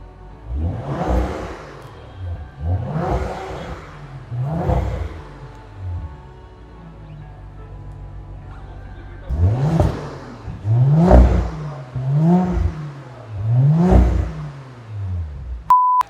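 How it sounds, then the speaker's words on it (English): A new Audi RS5 in dynamic mode with its exhaust valve open revs repeatedly, each sharp rising snarl falling back to idle, loud and close, with a steady hum between the blips and a brief beep at the end. "It's a nice sounding exhaust system."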